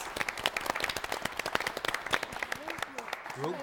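Audience applause in a quiz show studio, a dense run of individual claps, fairly faint and close, with a voice starting to speak near the end.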